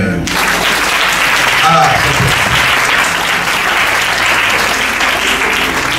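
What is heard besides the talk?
congregation applauding the Lord in church service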